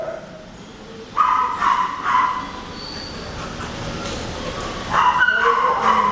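Several dogs at an animal shelter bark in short bursts, a couple of louder volleys rising over a steady background hum, moderately near.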